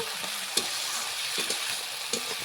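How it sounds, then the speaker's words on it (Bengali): A paste of mustard, onion, garlic and green chillies sizzles steadily in an oiled pan, close and fairly loud, with a few sharp spatula scrapes as it is stirred. "এটাকে এখন নাড়াচাড়া করে আমি একটু ভাজে নেব"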